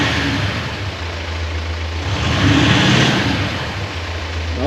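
A VW Amarok engine fitted with a Kufatec exhaust sound booster set to a subtle sound, idling close by, then rising in a short rev before settling back to a steady idle.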